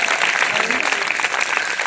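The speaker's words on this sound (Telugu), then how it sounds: "గట్టిగా చప్పట్లు కట్టి ప్రభువుని కనపడండి." A church congregation clapping loudly together in a dense, continuous burst of applause that fills the room, with voices mixed in underneath.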